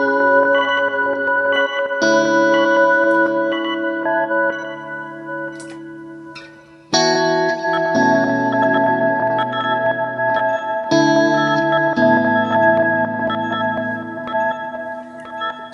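Sustained guitar chords through a Line 6 Helix reverse delay swell and shimmer with washy, reversed-sounding echoes, layering into a dense ambient drone that shifts every few seconds.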